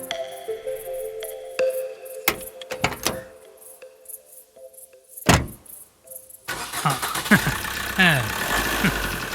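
A car parked after a battery check is cranked, catches, and then revs into a steady, loud roar, preceded by scattered clunks and knocks; nearby voices can be heard.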